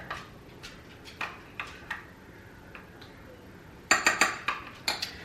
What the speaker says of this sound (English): Give it a really good stir.